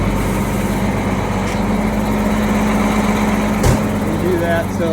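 Tractor engine running the PTO at raised speed to turn a fertilizer auger, a steady droning hum with a faint whine, close and constant, with a brief knock near the end.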